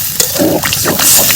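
Water splashes and gushes into a pan of frying drumstick stalks and potatoes, a short, loud, close rush of liquid lasting just over a second.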